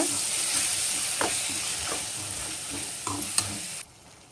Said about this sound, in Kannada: ಇದನ್ನ ಒಂದ್ಸರಿ ಚೆನ್ನಾಗಿ ಮಿಕ್ಸ್ ಮಾಡ್ಕೊಳ್ಳೋಣ.